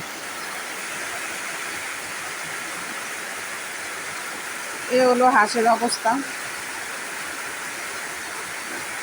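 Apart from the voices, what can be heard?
heavy rain pouring and running water at a duck farm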